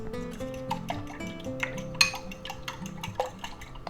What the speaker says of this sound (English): a little bit of pepper, some garlic, tiny bit of onion powder, and we're going to beat that up